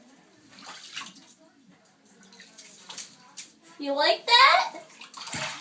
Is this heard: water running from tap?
yes